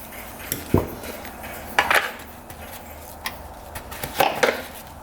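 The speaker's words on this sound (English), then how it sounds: "we have to get down in there and try to scrape that out" Metal tool scraping out residue inside a freshly rebuilt UTV engine area, a few short sharp scraping and clinking bursts spread out over a quiet background.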